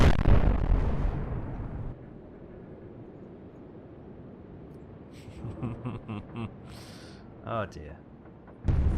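A warship exploding in the naval strategy game Atlantic Fleet: a loud booming blast opens, then fades into a low rumble, followed by further scattered pops and bursts and a final heavy boom. Someone speaks briefly.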